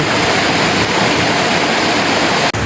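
Heavy floodwater after Typhoon Goring rushes past in a steady, loud, unbroken roar, with a brief dropout just before the end.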